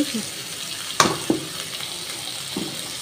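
Potatoes sauté in a pan with a soft continuous sizzle, punctuated by a couple of sharp clinks and scrapes of a utensil, close and brief, no talk.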